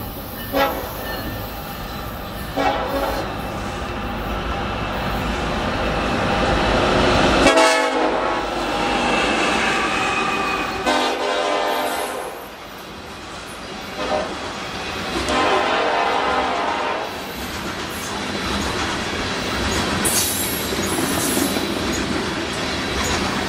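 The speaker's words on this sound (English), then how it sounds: "Grandpa Walt, we are in downtown Wayzata, and we have a Burlington Northern heading this way." An empty BNSF coal train with foreign locomotives roars past close by in downtown Wayzata along Lake Minnetonka, loud and steady with wheel clatter and horn blasts, the rumble swelling and easing as the cars pass.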